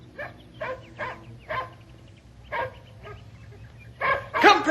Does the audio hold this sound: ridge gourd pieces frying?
no